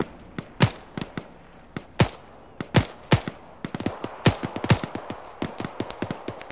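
Gunfire in a tactical shooter video game: sharp close shots and bursts at irregular intervals, growing denser into rapid overlapping fire toward the end.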